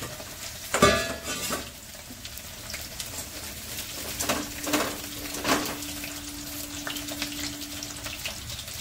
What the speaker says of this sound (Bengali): সুন্দর ভাজা হয়ে যাবে।